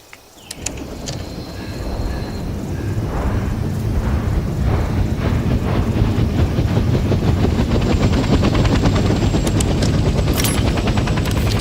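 A military helicopter in the Vietnam-era video game Hell Let Loose starts up. A few clicks give way to an engine spooling up, which builds into a loud, steady, rhythmic rotor chop with a whining turbine overtone.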